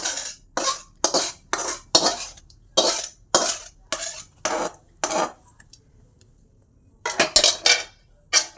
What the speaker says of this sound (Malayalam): ഫസ്റ്റ് നമ്മൾ ഈ ഒരു ഉടച്ച് വെച്ച കപ്പയിലേക്ക് നമ്മൾ വേവിച്ച് വെച്ച ചിക്കനില്ലേ, ചിക്കൻ കംപ്ലീറ്റ് ഇതിലേക്ക് ഇടുകയാണേ.